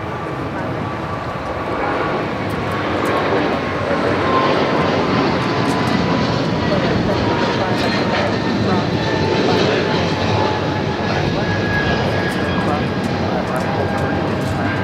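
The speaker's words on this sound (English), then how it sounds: "This is United Airlines 1890 taking off to Newark on the 777-200" A United Airlines Boeing 777-200 taking off from Los Angeles International Airport for Newark, its engines producing a loud, sustained jet roar that builds and stays powerful for the whole stretch.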